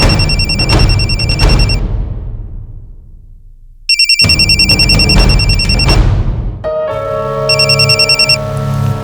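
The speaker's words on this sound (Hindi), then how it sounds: "अरे प्रिया, आज आपने फोन किया?" Phone ringtone repeating in loud electronic bursts, pausing for a silent gap and then resuming, with a different tonal ring pattern taking over near the end; no talking.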